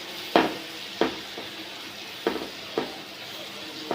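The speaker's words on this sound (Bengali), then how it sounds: "এখন সব কিছু একসাথে আবারও ভালো করে মিশিয়ে" A spatula stirs chopped vegetables with chilli, coriander and noodle spice mix in a frying pan, giving several sharp scraping knocks at irregular intervals over a steady low sizzle.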